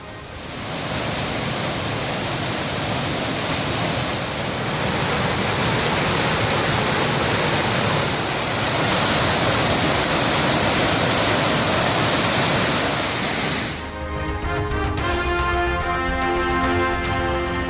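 Floodwater from heavy hill rain pours over Suruli waterfall in a loud, continuous roar that fills the scene before music comes in at the end.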